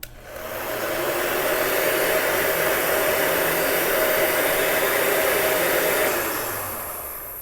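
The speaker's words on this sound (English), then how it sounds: "So I'm going to turn on the heat gun" A steady, loud blowing roar of a heat gun pushing hot air to remove labels, starting abruptly and running continuously for several seconds before tapering off.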